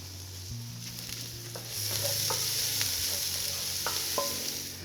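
Shallots sautéing in butter in a Dutch oven, a steady close sizzle and frying hiss with occasional stirring scrapes and clicks, swelling louder partway through.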